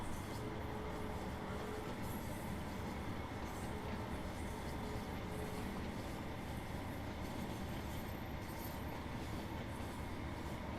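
A diesel multiple unit coasts along a West Cornwall local line in Train Sim World 3, a steady rumbling roll of wheels on rails with faint clicking joints, continuous and even throughout with no engine surges.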